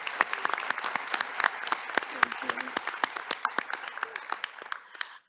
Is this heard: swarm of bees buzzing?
no